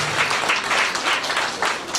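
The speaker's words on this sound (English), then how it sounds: "put your hands together and clap our board of governors" An audience at a primary school induction ceremony claps for the board of governors, producing steady, dense applause throughout.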